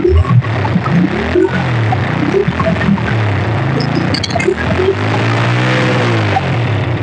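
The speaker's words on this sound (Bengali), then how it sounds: "বাইক কিন্তু স্টার্ট হয়ে গেছে" A Bajaj Boxer 100cc motorcycle, rebuilt from the parts of thirteen bikes, runs steadily close by, its engine note holding an even throb with a few light metallic clinks throughout.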